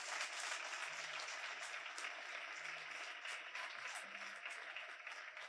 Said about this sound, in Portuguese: Você para aplaudir, aplaude.